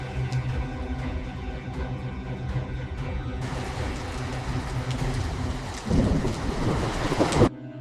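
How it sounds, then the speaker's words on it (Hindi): Heavy rain pours steadily with rumbling thunder, the downpour thickening and a louder crack of thunder bursting near the end before it stops abruptly. "बारिश भी रुकने का नाम नहीं ले रही"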